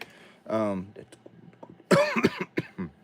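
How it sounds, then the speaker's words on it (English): A person coughs and clears their throat close by, with brief bits of speech around the coughs. "I also gonna cough a lot"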